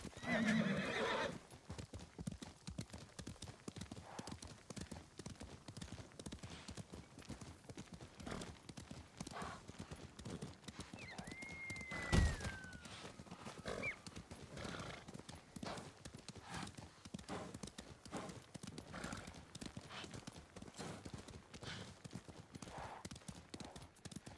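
A horse in the Ghost of Tsushima video game, steady clip-clop of hooves running throughout with one clear neigh in the middle, quiet and mid-distance against a low game backdrop.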